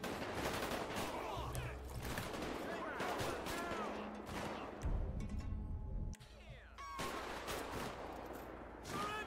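Bursts of gunfire in Grand Theft Auto, set in Los Santos, with sharp repeated shots and automatic volleys, a brief lull, then more firing amid the game's background noise.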